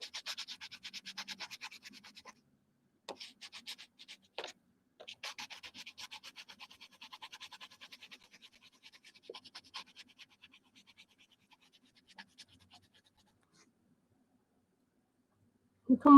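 Colored pencil scratching on paper during coloring, a steady scratchy rubbing in rhythmic bursts that thins out and fades, close and fairly quiet, ending with a brief louder sound.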